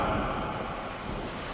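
Churning ocean waves in a dramatized mythological sea-churning scene, heard as a brief, steady, moderately loud rush of surf with no voices.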